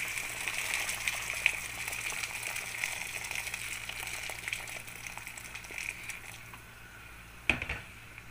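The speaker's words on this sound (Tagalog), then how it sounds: "Lalagyan na natin siya ng tubig." Water pours in a steady, soft gush into a cooking pot holding browned chicken, with light splashing throughout and a sharp clank of the pot near the end.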